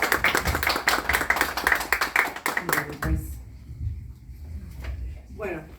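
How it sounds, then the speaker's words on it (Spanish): An audience at a psychoanalysis talk in a bookshop applauds for about three seconds with dense, close clapping. It then stops abruptly and a quiet room remains with a few faint sounds. "vamos a darle un aplauso"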